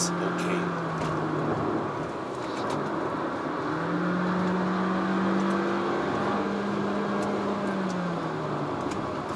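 A Honda HR-V Hybrid accelerates at full throttle, its engine droning at a steady near pitch that climbs and holds, heard from inside the cabin with faint ticking above.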